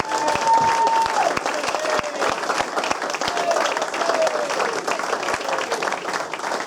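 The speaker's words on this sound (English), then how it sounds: "a big round of applause for Steve Cuss, please" Sustained applause from a crowd at a football club presentation evening, steady and dense throughout with a faint whistle-like tone early on.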